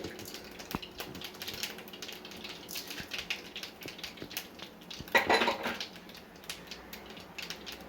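Mustard seeds splutter in hot oil while sambar tempering is made: soft scattered crackles and ticking pops that run throughout, with a louder burst of spattering near the end.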